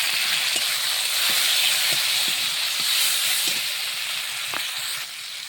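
Onion and tomato frying in a pan for a fish curry, a loud, steady hissing sizzle close by, with faint scraping knocks of stirring now and then before it eases slightly at the end.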